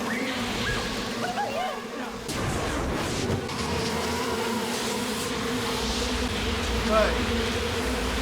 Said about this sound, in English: Here comes bees. Did you hear that?